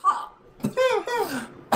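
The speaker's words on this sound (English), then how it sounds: "I know that I'm coughing a little bit in the slash stream" A few short coughs from a person on a live stream, scattered bursts with a brief laugh-like sound, close and fairly loud.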